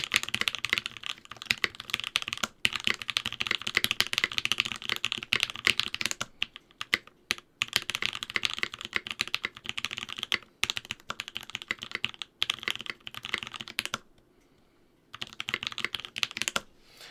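Rapid, dense clatter of fast typing on a custom Bauer mechanical keyboard, close and crisp, with brief pauses between bursts and no talking.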